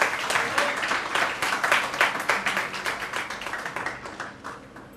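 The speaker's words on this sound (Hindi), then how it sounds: "जोर से तालियां बजाकर स्वागत करें।" Audience applause at a school award ceremony honouring twelfth-class students, a steady run of many hands clapping that swells early and gradually thins and fades toward the end.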